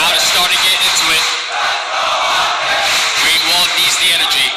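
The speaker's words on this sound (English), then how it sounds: "The crowd is starting to get into it." Esports crowd at a live Call of Duty League event roars and cheers steadily, a loud dense wall of voices that dips briefly and swells again, with a commentator talking over it.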